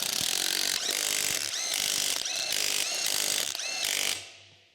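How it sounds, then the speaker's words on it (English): An electric impact wrench with a 19mm deep socket tightens wheel lug nuts on a 2021-2024 Ford Bronco 4WD, giving a loud, continuous hammering whir broken into several surges before it cuts off abruptly near the end. "Use a 19mm deep socket with the electric impact to tighten the wheel lugs."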